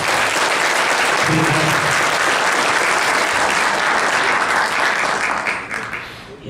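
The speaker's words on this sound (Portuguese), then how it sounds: "Uma salva de palmas." Sustained loud applause from an audience at a lecture, steady dense clapping filling the room for several seconds before it fades, with a brief spoken word near the end.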